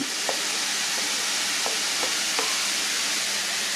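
Sliced spring onions hit a hot frying pan for Kenyan samosa filling, giving a steady, loud, close sizzle that runs throughout with a few faint clicks of the pan, and no one talking.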